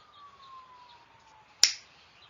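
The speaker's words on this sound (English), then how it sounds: "Wait for the snap." A single sharp finger snap rings out close and clear after a faint steady tone, then fades quickly to near silence.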